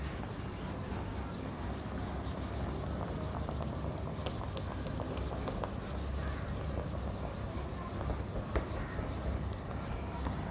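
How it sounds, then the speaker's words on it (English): An eraser rubs steadily across a writing board in a continuous scrubbing wipe, fairly close and alone, with no talk, and a few small knocks near the end. "Okay, I'm erasing it."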